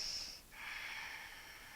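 Someone in a yoga pose with a straight spine takes two slow, airy nasal breaths close to the mic, each drawn-out with a short break between them.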